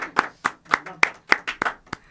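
A small group claps in a short rhythmic burst, about seven or eight even claps close by.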